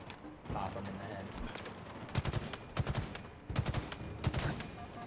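Battle rifle fire in Halo Infinite, rapid bursts of close sharp shots repeating in several clusters over game background noise.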